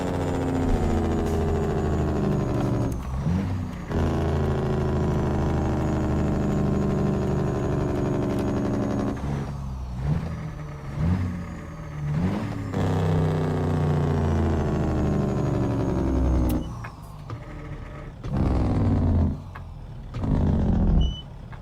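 A Caterpillar C15 truck engine in American Truck Simulator rumbles loud and close, holding a steady drone that breaks off several times as it shifts or revs before picking back up.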